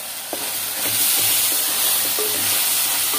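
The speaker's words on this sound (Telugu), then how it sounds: "పచ్చిమిర్చి వేసుకొని బాగా టాస్ చేసుకోవాలి హై ఫ్లేమ్లోనే" Green chillies sizzle and fry in an egg and potato curry over a high flame, a steady loud hiss broken by a few stirring scrapes.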